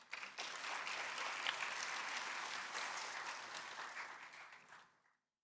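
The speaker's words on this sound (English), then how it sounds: "Ladies and gentlemen, please give a big round of applause to Dr. Chaitanya Prakash Yogi on the stage" Audience at a cultural peace celebration at UNCC applauds as Dr. Chaitanya Prakash Yogi takes the stage, a sustained round of clapping that builds quickly, holds steady and fades out over about five seconds.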